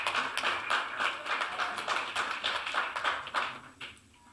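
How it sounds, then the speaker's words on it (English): An audience at an international forensic medicine conference applauds an introduced speaker, with a sparse scattering of distinct claps that thins out and trails off near the end. "A round of applause for Catherine Smith."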